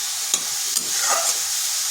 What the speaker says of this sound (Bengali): এই বাঁধাকপিটা একটু ভাজা ভাজা করে নেব,